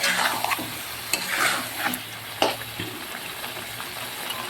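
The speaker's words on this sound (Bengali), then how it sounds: "ভালো করে নাড়িয়ে নাড়িয়ে কষিয়ে নেব আমি" Chicken curry with red chili powder being stirred and fried in a pan, sharp scrapes and clinks of the spoon over a steady close sizzle.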